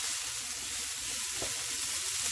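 Peppers and onions sautéing in a pan give off a steady, soft sizzle that holds even throughout, with no talking.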